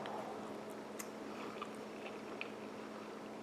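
Close, quiet chewing of Mi Goreng instant noodles mixed with mashed egg, soft wet squishing bites repeating unevenly under a faint background hum.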